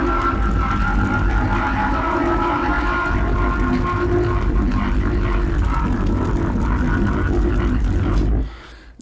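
A pitched-down sample layered with a fire sound in a music mix forms a dense, loud, rumbling drone that holds steady for about eight seconds before cutting off abruptly.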